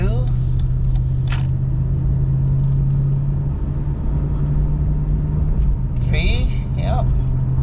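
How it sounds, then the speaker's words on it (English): A 2001 Mercedes ML430 (W163) with a limp-mode fault drives along and shifts gears. Its engine gives a steady low hum and a road rumble from inside the cabin, while people talk over it. "We are driving it. See, it's shifting."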